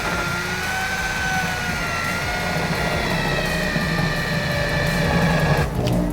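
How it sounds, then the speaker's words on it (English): A spot weld drill bit bores through the outer sheet metal of a rusty Toyota 4Runner rear quarter panel, a steady, close, whining grind that runs without pause and rises in intensity near the end. "that's gonna make it a lot easier to drill through this outer piece of sheet metal without drilling through the one that's behind it."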